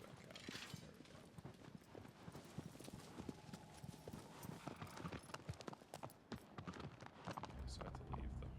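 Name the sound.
horse hooves in the video game Shadow of the Colossus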